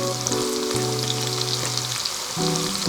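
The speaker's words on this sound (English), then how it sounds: "I've been basting this side of the steak for about 30 seconds" Filet mignon basting in butter in a pan, a loud, steady sizzle and crackle with soft spoon scrapes and shifting tones as the hot butter is ladled over the steak.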